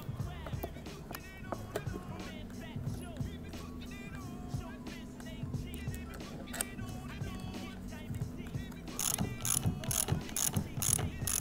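Screws being driven back into the battery and electronics box of a custom-built electric skateboard, a steady ratcheting, clicking mechanical whir with louder bursts of turning near the end, close by.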